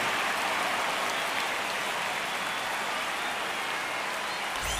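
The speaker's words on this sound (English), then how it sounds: "The crowd is amped up, ready to get this season underway" Dense, steady crowd roar from a ballpark crowd in the MLB The Show baseball video game at Petco Park for the Tigers versus Padres opener, a continuous wash of noise without pauses.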